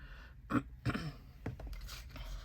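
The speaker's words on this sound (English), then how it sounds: "I'm sorry for clearing my voice, clearing my throat" A few short, throaty rasps at close range, like someone clearing their throat, separated by brief pauses over a faint background hum.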